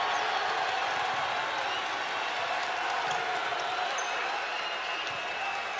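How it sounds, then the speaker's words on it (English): A crowd in a basketball arena at a college game roars with a loud, sustained din, broken by faint scattered thuds. "1:50 left to play, and listen to this crowd."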